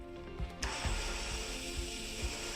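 A handheld power drill's gear collar being twisted, giving a short dry ratcheting click sequence with a few mechanical knocks, close and quiet with no voices.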